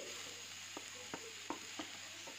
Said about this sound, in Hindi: अब इस पत्ता गोभी को हम कम से कम एक से डेढ़ मिनट तक इसी तरह से फ्राई करेंगे यानी कि भूनेंगे